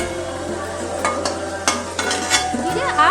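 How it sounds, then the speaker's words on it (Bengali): Potato pieces for a mutton curry thali frying in a pan, stirred with sharp scrapes and clinks over a steady sizzle, close and fairly loud. "দেখুন সবগুলো খুব সুন্দর করে ভেজে নিয়েছি লাল লাল করে।"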